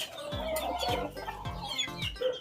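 Boston Roundhead gamefowl roosters, champion birds, give repeated low clucks in a steady rhythm, several close calls spaced about half a second apart against a busy farmyard background.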